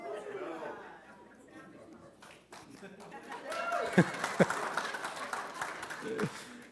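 A church congregation claps and murmurs at a pastor's remark, a loose patter of hands under chatter and faint laughter, swelling midway with a few sharper claps near the end.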